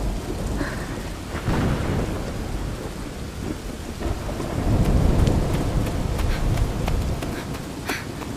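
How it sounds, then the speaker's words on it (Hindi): Heavy rain pours down steadily while thunder rumbles and rolls, swelling louder partway through a stormy downpour. "बारिश अब मूसलाधार हो चुकी है। आसमान गरज रहा है"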